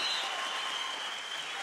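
A studio audience at a Sábados Felices comedy show applauds a singing duo, a brief, steady burst of clapping at fairly low level.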